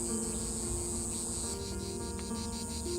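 Cicadas, loud summer insects, drone in a dense, unbroken high-pitched buzz that fills the whole stretch at steady loudness, with no voices over it.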